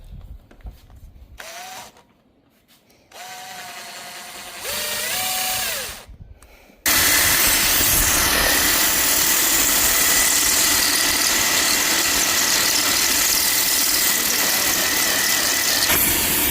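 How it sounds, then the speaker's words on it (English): A power drill whirs briefly in short starts, then runs continuously and loudly as it grinds and shaves away material to fit an SR20 Hall sensor kit part. "I'm gonna use a drill and kind of shave here"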